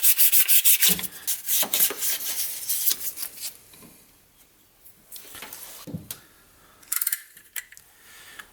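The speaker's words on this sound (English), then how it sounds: "And I just have some really fine sandpaper. It's 1200, and just clean the area up a little bit." Fine 1200-grit sandpaper rubs by hand over an engine part, making close, raspy scrubbing strokes in irregular bursts with short pauses between them. No one talks.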